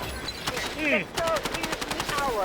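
Rapid gunfire in the Delta Force video game, dense bursts of automatic rifle shots crackling close and loud, with a brief lull before another sustained stream of rounds and whistling effects.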